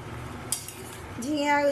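A pot lid lifts off jhinge posto, ridge gourd in poppy seed paste bubbling on the stove, giving a short metallic clink followed by a soft scrape and a rising hiss of steam. The sound is near and moderately loud, with no talk.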